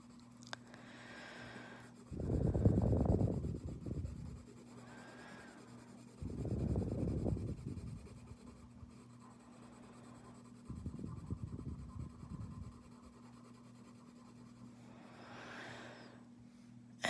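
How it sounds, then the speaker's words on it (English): Marker or pen coloring in a mermaid drawing on paper, three separate bursts of close, soft scratchy strokes with quiet pauses between them over a steady low hum. "outlining the shape, and then I can color in that middle portion faster"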